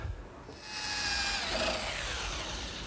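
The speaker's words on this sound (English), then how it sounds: "First, I drill a 3/8-inch hole and then finish through with a 3/16 hole." A power drill bores a hole into wood while building a sideboard, starting up with a rising whine and then a loud, steady grinding as the bit cuts, close by.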